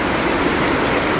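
Rainwater pours and gushes steadily during heavy rain and flooding as it is collected. The dense, loud, unbroken rush sounds close, with no voices.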